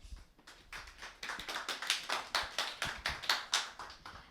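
Scattered, uneven clapping from a small audience at a 2020 Korean church symposium, welcoming a presenter to the podium; individual claps stand out in a loose rhythm that thickens slightly over about four seconds, with no talking.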